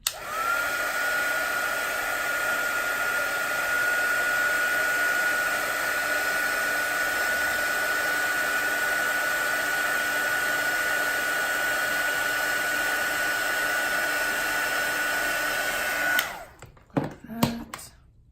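A hair dryer blows on wet watercolour paint, giving a loud, steady whir for about sixteen seconds before it switches off, followed by a few soft clicks and knocks.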